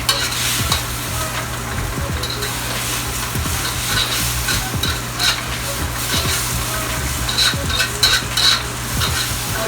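Round steak simmering and sizzling in a pan, a steady close frying hiss with repeated light stirring clinks and scrapes throughout.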